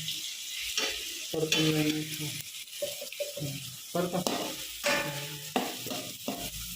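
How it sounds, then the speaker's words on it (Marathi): Onion and tomato sautéed and stirred in a pan: steady sizzling with repeated scraping stir strokes, close and moderately loud, with a voice heard at times. "आता कांदा परतून झाला व्यवस्थित टोमॅटो मस्त पैकी परतून घेऊ"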